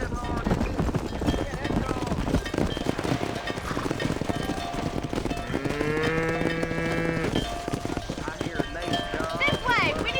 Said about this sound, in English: Herd the cows down the road.